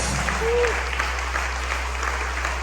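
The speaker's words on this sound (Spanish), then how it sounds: "Denle ese aplauso a la gloria de Dios" Congregation applauding in a church during a Spanish-language sermon, a diffuse wash of clapping over a steady low hum, with a brief vocal sound near the start.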